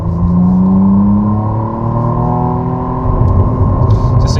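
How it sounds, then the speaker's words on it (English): A McLaren Artura Spider accelerates, its engine a loud, close, tonal drone that rises gradually and swells again toward the end, with no talking. "Just accelerating to the speed limit there, and you can hear, well, at least I hope you can hear, just how fantastic this car sounds."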